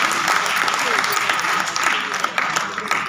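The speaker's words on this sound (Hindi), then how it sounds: "एक बार तालियां बजाकर थोड़ा सा" Audience applause at a Hindi poetry recital, a loud, dense, unbroken roar of many people clapping with crowd noise mixed in, sustained throughout.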